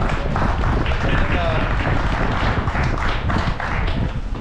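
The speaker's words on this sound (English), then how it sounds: "Give Dylan a round of applause." Steady crowd applause at a snowmobile racing awards gathering, continuous dense clapping close by with voices mixed underneath.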